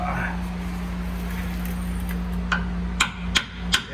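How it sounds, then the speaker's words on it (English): Hammer tapping a ball joint into a 2003 Ford F350 4x4, three or four sharp metallic taps near the end over a steady low hum. "get it started, tap it down with a hammer"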